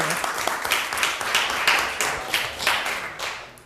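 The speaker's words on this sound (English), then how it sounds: "we're going to give you another round of applause" A crowd applauds at a city council work session, with dense, sustained clapping that swells in waves over nearly four seconds, moderately loud and with faint voices mixed in.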